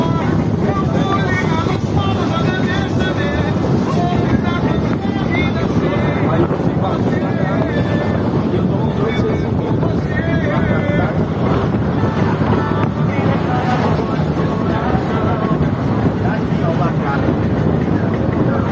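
Boat ride out to the Seixas natural pools at João Pessoa: a loud, continuous engine drone with water rush and wind buffeting across the microphone, with voices faintly underneath.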